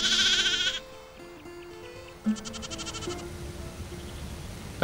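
Icelandic sheep bleat loudly and close by at the start, a long wavering cry, followed by quieter scattered bleats and farmyard background from a flock out at hill and mountain pasture.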